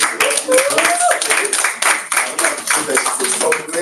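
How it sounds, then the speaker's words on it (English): Applause from a crowd at an International Women's Day event, a dense patter of hands clapping continuously, with voices talking over it. "let's clap for Lucy for"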